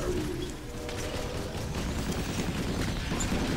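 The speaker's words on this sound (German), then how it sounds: "Wir haben Kanonenfeuer von oben" Cannon fire from above in the video game EDF Insect Armageddon, a dense rumbling barrage of booms running continuously with no talk over it.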